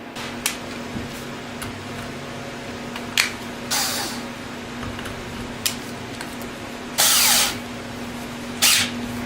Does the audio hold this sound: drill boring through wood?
yes